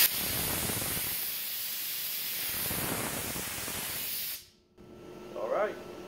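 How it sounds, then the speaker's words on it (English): Water spray hoses down a vehicle in a garage, a steady loud hiss filling most of the clip before cutting off abruptly, followed by quieter background and a brief voice. "Go ahead and hose her off there"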